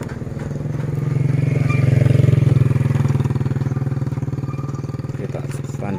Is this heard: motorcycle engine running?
yes